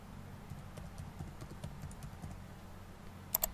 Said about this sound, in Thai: พิมพ์เลยฮะ